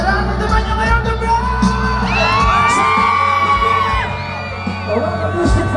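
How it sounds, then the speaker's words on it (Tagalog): A large outdoor concert crowd at Aurora Music Fest 2026 cheers and screams loudly and steadily, with whoops and yells rising above a dense roar close to the listener. "Sigaw niyo na lahat ng nararamdaman niyo ngayong gabi!"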